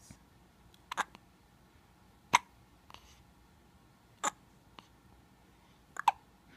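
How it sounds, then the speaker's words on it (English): A baby's hiccups: about six short, quiet hiccups at irregular intervals, heard close up in an otherwise calm room. "Who's got the hiccups?"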